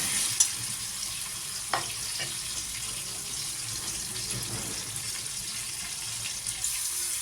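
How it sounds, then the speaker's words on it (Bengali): Chopped tomato and ginger-cumin paste fry in hot oil with bay leaves in a pan, a steady close sizzle with a few sharp spatters and light stirring scrapes throughout. "এবার দিয়ে দিলাম টমেটো কুচি, এবার দিয়ে দিলাম আদা জিরে বাটা একটু দিয়ে দিলাম।"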